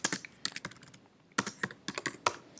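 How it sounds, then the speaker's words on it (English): Keystrokes on a computer keyboard while entering a search into a search bar, arriving in several quick bursts of clicks separated by short pauses, close and clear with no talking. "So I will be typing it here in the search bar."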